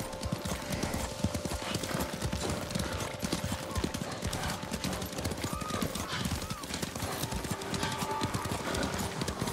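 Horses' hooves clip-clop steadily and continuously at a walking pace in the video game Ghost of Tsushima, a busy rhythmic patter heard throughout against a dense ambient backdrop.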